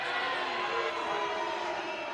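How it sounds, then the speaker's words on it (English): Crowd noise from a sports event, a steady distant wash of many voices and cheering that holds level throughout. "You can hear the crowd."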